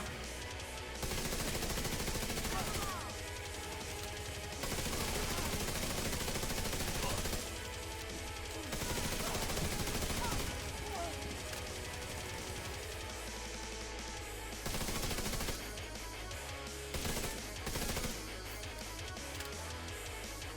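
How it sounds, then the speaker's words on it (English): Gunfire in The Division 2 rattles in loud, dense automatic bursts with short gaps, fired close and continuously over about twenty seconds, with talk under the shooting. "shoot the people who aren't free first"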